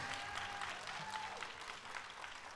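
Quiet applause from a ceremony audience at a promotion event in Atlanta, faint and distant, with a steady tone and a few voices underneath.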